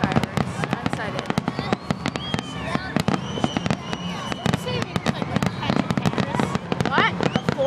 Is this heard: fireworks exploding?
yes